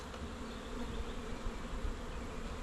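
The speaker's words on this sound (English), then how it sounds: "there's a lot of bees in here" Dense, steady buzzing of many honeybees from an open, strong hive, a continuous hum heard close up with no talking.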